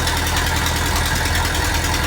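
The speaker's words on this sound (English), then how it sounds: "Once the tractor winds up" A tractor engine runs steadily just after starting up on a farm, a loud, continuous rumbling idle that stays close and even throughout, with no talking.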